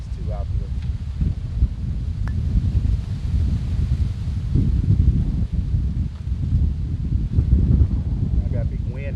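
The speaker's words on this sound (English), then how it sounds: "I got a big wind in my face too." Steady wind gusts across an outdoor putting green, a continuous low rushing buffet against the microphone with rustling, under occasional speech.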